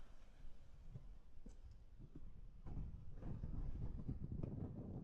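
Extreme wind batters the internal microphone of an Insta360 Ace Pro 2 camera beside a river, a low, faint rumbling buffet that grows stronger and steadier in the second half.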